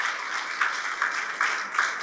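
A brief, somewhat muffled round of applause from guests at a property grand launch event, a dense patter with a few louder pulses.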